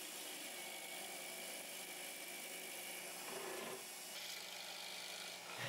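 A steady, dense rasping and grinding as a drill press bit bores through a wood blank, continuous and fairly close, with a slight shift in tone partway through.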